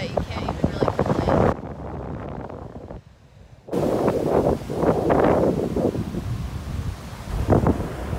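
Summer wind blowing outdoors in Sweden, a loud, steady buffeting rush against the microphone with broadband gusts, dropping briefly to a quieter lull midway before surging back strong.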